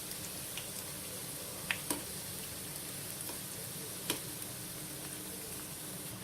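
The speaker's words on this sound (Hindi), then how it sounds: "सारे फुल्कियों को हमने इसमें डाल दिया है ऑयल में अच्छे से फ्राई होने के लिए" Phulki dumplings fry in hot oil in a pan, a steady close sizzle with a few sharp pops and spatters standing out.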